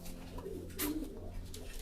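A single soft coo from a pigeon in a loft, faint and brief over a steady low background hum.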